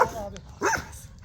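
A female black Presa Canario gives a single short bark, close and loud, as someone talks nearby.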